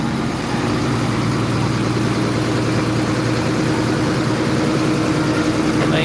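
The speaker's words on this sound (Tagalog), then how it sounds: "Maingay lang yung truck." A truck engine idles steadily and close by, a continuous low, even drone with no voices, outdoors in San Jose in Bicol after Typhoon Pepito.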